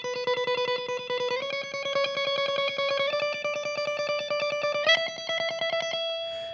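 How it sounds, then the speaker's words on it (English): Electric guitar tremolo picking with fast alternate picking, a steady stream of rapid, even pick strokes on sustained notes that step up in pitch a few times, played through ambient effects, close and alone. "I'm gonna use alternate picking, tremolo picking super fast like this"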